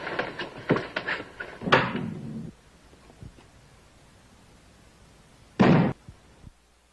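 A door closing at the end of Ibsen's A Doll's House: a few sharp knocks and rattles, then a loud, heavy slam that rings out alone, followed by faint quieter thumps.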